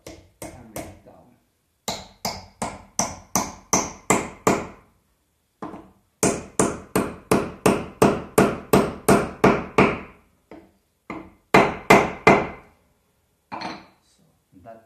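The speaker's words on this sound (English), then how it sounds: "Then I place the wedge in the slot here and start hammering it down." Rapid series of sharp metal hammer strikes driving a wedge into the slot of a hammer shaft, in bursts of quick rhythmic blows with brief pauses between, close and loud.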